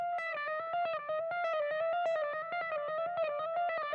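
A buzzy, synthetic electronic tone pulses in fast, repeated bursts, its pitch wobbling slightly in a looping pattern: the low-health warning theme from Pokémon Black and White, like an urgent chiptune alarm melody.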